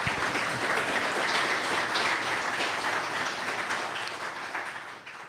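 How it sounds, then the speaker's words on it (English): An audience at a design and AI conference gives a speaker a sustained round of applause, a dense, steady wash of clapping that slowly tapers off toward the end. "let's give Claire a round of applause"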